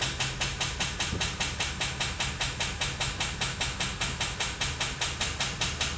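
A C6 Corvette engine cranks over without catching: rapid, evenly spaced mechanical chugging that repeats steadily, loud and continuous throughout.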